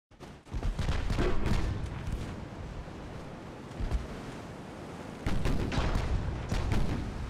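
Heavy 16-inch naval guns in the warship game Ultimate Admiral Dreadnoughts fire in rolling broadside salvos, with deep booming rumbles swelling twice over a constant roar of sea and wind.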